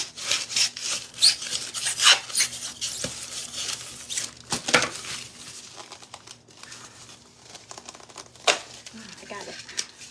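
Styrofoam in a pool noodle is torn and cut with an X-Acto knife, producing scratchy, squeaky rubbing and crinkling in irregular bursts at close range while a person talks at times.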